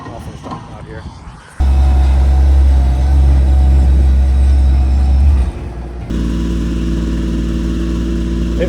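A plate compactor engine labors and bogs on an uphill grade while backfilling a ranch water tank pad and driveway, a loud, steady mid-pitched drone that drops off near the end, then continues at a different tone.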